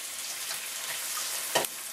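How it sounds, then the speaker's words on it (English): Onions sauteing in a pan crackle and sizzle steadily at close range, with one brief louder scrape or stir near the end and no voices. "Oh, I love the smell of sauteing onions."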